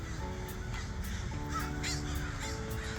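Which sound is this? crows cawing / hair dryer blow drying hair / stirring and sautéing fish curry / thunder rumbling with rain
crows cawing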